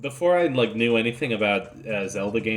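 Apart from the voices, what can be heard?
No everyday noises stand out.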